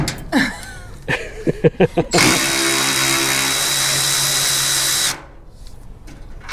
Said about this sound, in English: the cordless ratchet is pretty sweet